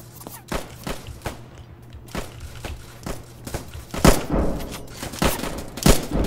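Machine gun fire in the Roblox game Trenches crackles as a series of sharp, irregular gunshot cracks, some in quick clusters, over a low background hum.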